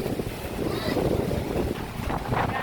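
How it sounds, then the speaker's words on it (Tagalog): Strong wind gusts buffet the microphone at a Philippine beach near the sea, a steady loud rumbling roar throughout with faint surf underneath and a brief spoken word. "Yan ang lakas ng hangin pati"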